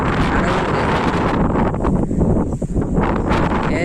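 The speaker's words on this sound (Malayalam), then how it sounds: "ഏറ്റവും ടോപ്പില് നല്ല കാറ്റുണ്ട്." Strong wind buffets the microphone on a hilltop at the summit of Attappadi hill, a steady loud roar with gusty swells and brief dips throughout.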